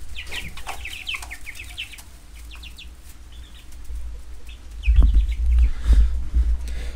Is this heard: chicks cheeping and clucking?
yes